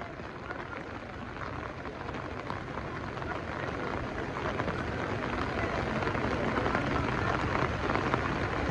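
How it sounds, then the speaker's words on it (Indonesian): Heavy rain pours down on a badly damaged road at Batu Jomba, a dense, steady roar of broadband hiss that swells slightly louder over several seconds, with no clear talking. "Beginilah kalau Batu Gemba diguyur hujan deras"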